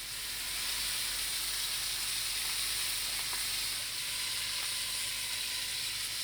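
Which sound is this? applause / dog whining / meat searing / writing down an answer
meat searing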